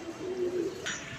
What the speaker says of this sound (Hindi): दोस्तों कबूतर नहीं पकड़ा गया, वो जा रहा है दोस्तों, वो जा रहा है